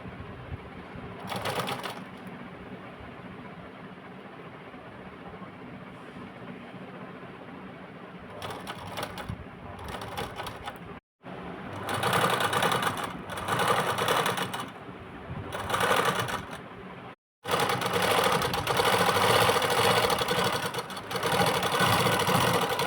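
Sewing machine stitching pleated, folded fabric on a designer blouse sleeve, running in loud bursts of steady mechanical whirring separated by short pauses and near-silent gaps, with no talk.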